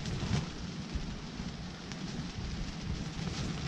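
Steady rain drums on a tent during a thunderstorm outdoors, a dense, even hiss with low rumbling underneath and no talk.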